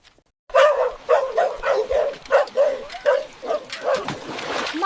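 A dog barks in a quick run of about a dozen loud, close barks, closely spaced and rhythmic, with a few yelping notes toward the end after a brief silent start.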